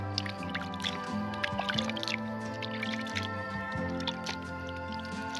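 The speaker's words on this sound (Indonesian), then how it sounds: "Ini kita siram sedikit lagi sampai media atasnya juga lembab." Water is poured over moist soil around water spinach seedlings, giving soft, close dripping, squishing and trickling sounds that run continuously and quietly with no talk.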